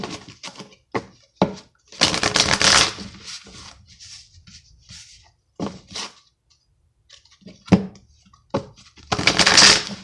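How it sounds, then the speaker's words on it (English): Tarot cards shuffled by hand in quick riffling bursts, loud and close, with short pauses and scattered taps between the bursts of shuffling. "I'm going to shuffle 2 more times."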